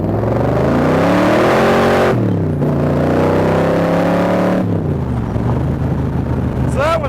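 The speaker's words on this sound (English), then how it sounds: "that was the back wheels breaking loose when the 4 barrels kicked in" A Superformance 1965 Shelby Cobra replica accelerating hard, its loud V8 rising through the revs with a gear change partway, while the rear wheels break loose. A brief tire squeal comes near the end.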